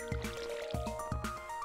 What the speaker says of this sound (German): Ich bin gerade am Gießen.